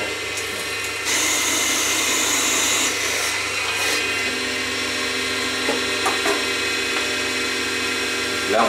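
Diamond drill bit boring into crystal while making jewelry, a steady whirring grind with scraping and rubbing noises close by, interrupted by small clicks and shifts in pressure.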